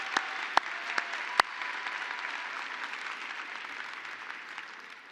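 Faint, thin applause from a convention audience: a few sharp claps at the start, then a soft, steady patter that tapers off, with no talking.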